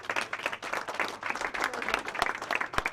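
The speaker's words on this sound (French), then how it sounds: "un applaudissement" Applause at the Salon Concours Manger Bien in Falicon, a small group clapping nearby in an uneven patter with a few sharp, louder claps toward the end.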